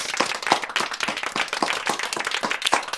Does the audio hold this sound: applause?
yes